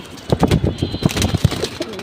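A domestic pigeon, a khaki male, coos in short throaty pulses close by, with wing shuffles and someone talking faintly in the background.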